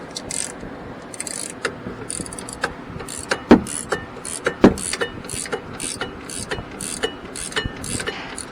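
A ratchet wrench works a brake bracket bolt loose on a Chevy Traverse during a rear brake job, sending out bursts of quick, close metallic clicks with a few sharper knocks partway through.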